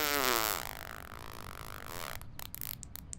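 A long, loud flatulent blast from a giant cow opens with a rising, buzzy tone, then fades into a wobbling, sputtering drone before breaking into a few short, crackly pops at the end.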